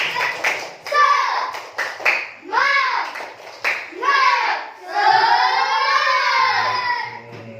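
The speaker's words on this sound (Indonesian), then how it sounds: "Oke, sekali lagi tepuk semangat." Sharp hand claps open a repeat of the 'tepuk semangat' spirit clapping chant, then a group of classroom children chant loudly in short rhythmic phrases ending in a long drawn-out shout.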